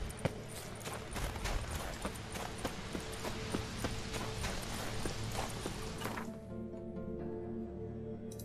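Horse hooves clip-clop in a steady, rapid rhythm in The Witcher 3 video game, loud and close for about six seconds before stopping abruptly, leaving quieter ambient game sound with no talking.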